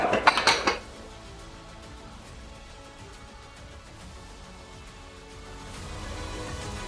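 In a cooking competition kitchen, plates clatter and clink sharply in a short burst at the start, then the scene settles into quiet background room noise.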